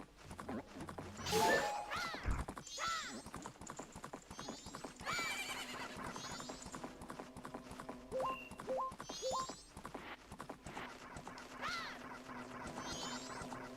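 Horse hooves clip-clop steadily in The Legend of Zelda: Majora's Mask, with a loud neigh early on and scattered bird-like game calls over the continuous galloping rhythm.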